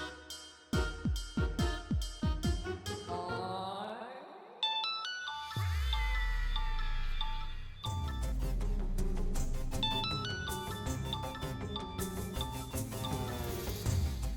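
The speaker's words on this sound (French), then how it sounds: "Je crois que ton téléphone sonne." A mobile phone rings with a melodic tone, starting with rhythmic plucked notes and then swelling into a loud sustained musical pattern that plays on alone.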